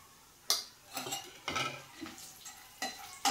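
Cashews and almonds are stirred in ghee in a pan, giving a few sharp spoon scrapes and clinks at uneven intervals over a faint, low sizzle.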